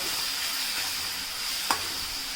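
Ginger, garlic and chili paste sizzling in hot tempering oil, a steady broadband hiss with one brief clink near the end.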